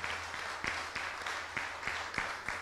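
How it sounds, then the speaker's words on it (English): A round of applause at a public village meeting honoring the Army Corps, heard as a steady, moderately faint wash of many hands clapping with a few sharper claps, continuous for about two and a half seconds. "I'd like to have a round of applause for the Army Corps."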